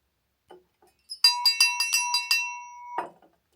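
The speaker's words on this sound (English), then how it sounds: "It sounded like some kind of glass." Glass clinks in an old room, a quick series of about six bright, ringing chimes followed by one more strike after a short pause, each ringing out briefly in near silence.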